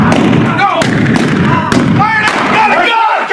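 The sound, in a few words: gunfire in O.K. Corral gunfight reenactment, Tombstone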